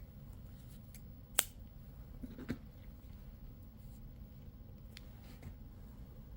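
Scissors snipping white crochet yarn, one sharp close cut followed by a softer second snip, faint and quiet against a low background hiss.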